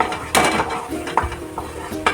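Metal pan and utensil clatter as roasted dry-fruit laddu ingredients are scraped from the pan onto a plate, several sharp clinks and scrapes in quick succession, close and fairly loud.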